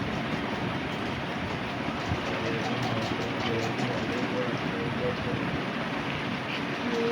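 Train moving in the video game Granny 3: a steady, dense rumble of rolling wheels with faint clicks holds at an even level throughout, and no voices are heard.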